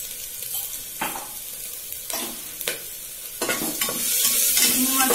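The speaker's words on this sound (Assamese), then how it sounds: "এইখিনি মই ভালকে অলপ ভালকে ৰঙচুৱাকে ভাজি লওঁ।" Spices (salt, turmeric and cumin) frying in hot oil in a pan give a close, steady sizzle, broken by several sharp scraping stirs that grow busier toward the end.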